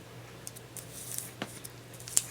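Scissors snip around a shipping label on a Tyvek post office mailing bag, making a few faint, sparse clicks against a quiet background hum.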